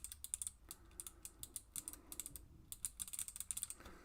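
Clicky mechanical keyboard switches with bare stems and no keycaps, typed on in a Kyria split keyboard build, giving rapid crisp snapping clicks in irregular bursts, close up and alone.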